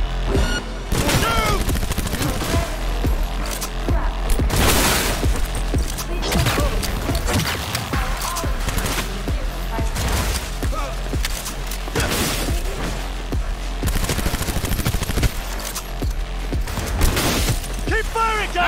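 Repeated shotgun blasts in Cyberpunk 2077 boom through a dense, noisy firefight, with loud bursts of gunfire and shattering impacts spread across the stretch while a voice shouts over the action.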